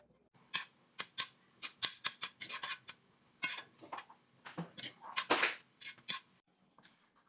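A knife cuts through sourdough bread on a board in a cast-iron cooking setup, giving a series of crisp, close, crunchy slicing strokes in an irregular rhythm with short pauses between them.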